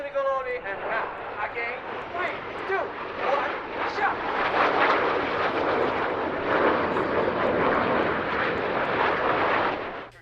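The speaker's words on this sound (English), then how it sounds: "The MB339 really is an ideal performer though, exceptionally manoeuvrable" MB339 jets fly a formation display at a military airshow: a broad, rumbling jet roar builds and holds strongly overhead, with a voice briefly heard at the start.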